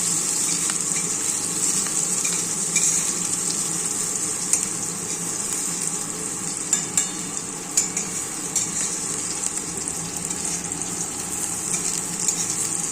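Capsicum and fennel seeds stir-fry in hot oil with a continuous close sizzle, broken by scattered light scrapes and clinks of a spatula against the pan across the whole stretch.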